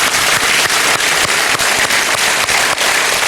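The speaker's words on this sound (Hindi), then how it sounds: "इसके लिए तालियां बजानी चाहिए" A studio audience at the KBC quiz show bursts into loud, sustained applause for a contestant, dense continuous clapping with no voices heard over it.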